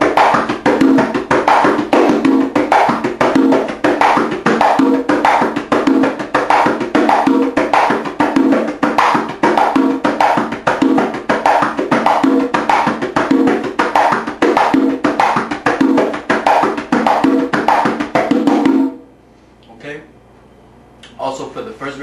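Congas play salsa tumbao variations mixed and alternated, a fast, dense run of open tones and slaps at close range that stops abruptly near the end, followed by a brief low sound.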